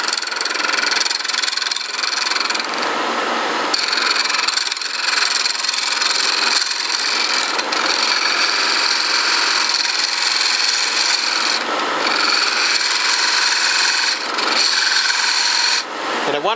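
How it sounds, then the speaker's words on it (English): A flat nose scraper, reground from a V-nose scraper, cuts wood on a lathe while a walking stick is turned, a loud close continuous rasp and hiss with brief dips as the tool shifts, no talking. "This is a flat nose scraper. It used to be a V-nose scraper, and I use it, once again, just the same way I do a gouge."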